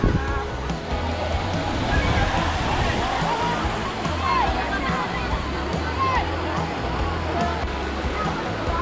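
Rushing water of Bolinao Falls in Pangasinan pours steadily and loudly in a natural outdoor setting, a continuous broadband roar with people talking and laughing over it.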